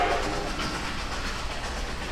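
A long freight train rolls past in a steady, dense wash of rail noise with faint rhythmic clacking, continuous and fairly close, with no voices.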